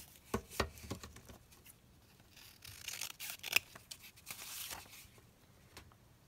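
Scissors snip close by through paper being trimmed for a handmade window envelope, a few short crisp cuts with rustling handling, fairly quiet, no voices.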